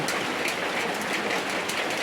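Steady rain falls in a continuous, even hiss of countless drops, close and fairly loud, with no voices.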